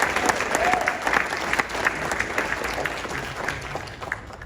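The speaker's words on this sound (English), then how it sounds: "You deserve a round of applause." Sustained audience applause during an acceptance speech, dense and steady clapping from a large crowd, loud and close throughout with no talking over it.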